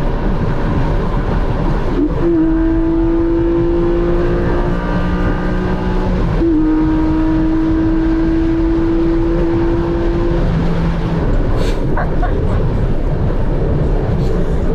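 A Porsche 718 Boxster GTS 4.0, naturally aspirated with a manual gearbox, pulls hard on the Autobahn, its engine note climbing steadily through two gears with crisp shifts between, loud over road and wind roar.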